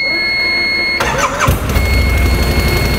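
Campagna V13R three-wheeler started with the ignition key: a brief whirring crank at one second, then the engine catches and settles into a loud, steady idle close by.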